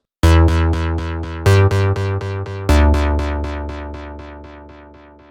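Repeated tonal notes processed through the FreqEcho delay plugin at a fully wet mix, sounding as a dense cascade of echoing repeats that restart three times and then trail off into a long, steadily fading tail.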